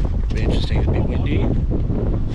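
Wind gusts across a cricket field on game day, a loud, rumbling buffet of wind noise hitting the microphone throughout.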